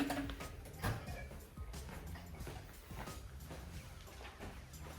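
A paint roller spins on a Rocket Roller Cleaner with a steady whirring, ratcheting mechanical rattle that runs close and continuous throughout.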